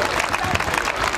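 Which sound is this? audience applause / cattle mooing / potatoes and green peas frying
audience applause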